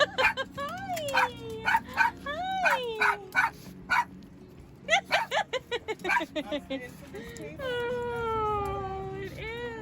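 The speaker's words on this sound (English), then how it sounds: "here is some quality puppy content" A puppy gives a rapid series of high yips and barks mixed with drawn-out whining whimpers, close and fairly loud, with people talking around it.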